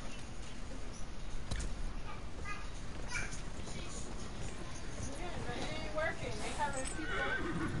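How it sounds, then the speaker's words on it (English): A horse whinnies and its hooves clip-clop at a gallop in the video game Dragon Age Inquisition, with game ambience underneath and a person talking over the action. "that's how you summon the horse"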